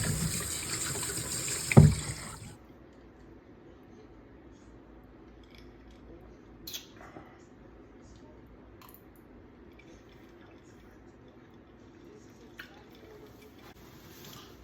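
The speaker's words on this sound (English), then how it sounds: "after I get done rinsing, washing, cleaning, whatever you want to call it" Tap water runs for a couple of seconds while something is rinsed under it, with a bright, splashy rush that ends in a clunk. Quiet kitchen room tone and a few faint knocks follow.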